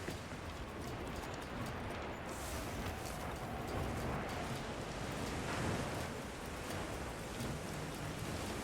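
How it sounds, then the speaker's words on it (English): Steady rain in the video game Monster Hunter Wilds, a dense even patter heard from a rooftop with no talking over it. "It's still raining through, like, the ceiling here."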